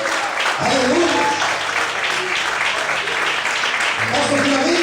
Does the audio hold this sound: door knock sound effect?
no